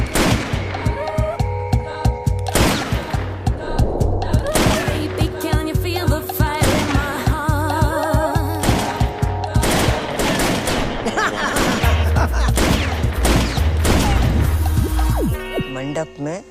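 Gunfire erupts in a Hindi movie scene, with rapid machine-gun bursts and single loud shots repeating throughout over a busy soundtrack.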